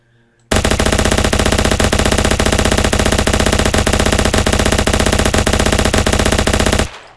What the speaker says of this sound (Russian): просто два минигана взял, вы понимаете? Просто чтобы патроны вообще не заканчивались.